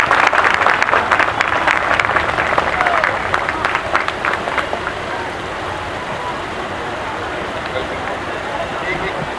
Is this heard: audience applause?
yes